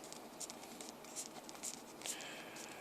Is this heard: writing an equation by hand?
yes